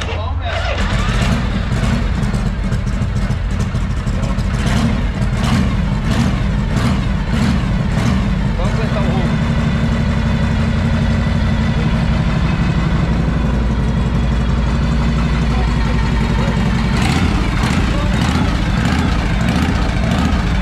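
A Harley-Davidson Pan America motorcycle engine runs at a loud, steady idle close by, with a low rumble throughout and people talking over it.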